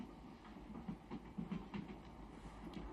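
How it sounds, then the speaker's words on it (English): Russian passenger train rolling along the rails bound for Petrograd, with a steady low rumble and a loose series of rhythmic clacks from the wheels, heard from inside, with no voices. "we are now on a Russian train"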